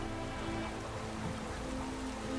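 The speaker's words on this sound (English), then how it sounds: "A storm, damn it." Storm rain falling in The Witcher 3 role-playing game, a constant close hiss of heavy downpour on the ground with a faint low rumble beneath, steady throughout and free of speech.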